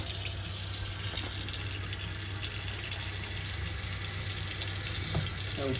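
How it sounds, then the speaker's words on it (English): A kitchen sink tap in a fifth wheel RV runs continuously, a steady close rushing stream of water with a low hum beneath, no voices over it. "this sink takes maybe 5 or 10 seconds for the hot water to reach this point"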